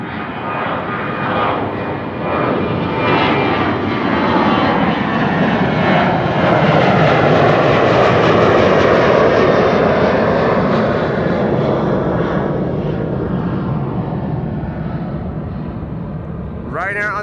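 A Ryanair airliner departing Amsterdam Schiphol on a sunny day roars loudly and evenly as it passes, swelling toward the middle and then easing, with a voice briefly heard over the engine noise.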